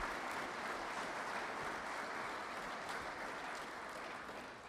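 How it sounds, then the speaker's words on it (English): An audience applauds the newly announced Nebraska athletic director, a steady, dense wash of clapping that holds for several seconds and tapers slightly at the end. "I want you to give him a round of applause as well"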